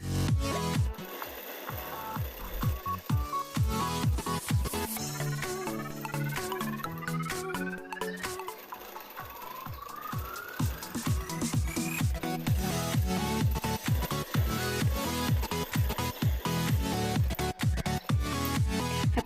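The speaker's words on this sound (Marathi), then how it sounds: "त्याच्यावरून मी आता एक शिलाई मारून घेते." A sewing machine stitches a katori blouse in quick, uneven bursts of rapid clattering needle strokes, with short pauses and mechanical clicks between runs.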